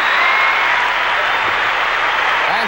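Steady, dense clapping fills an arena after a balance beam dismount at the 1984 McDonald's American Cup gymnastics competition, loud and unbroken throughout.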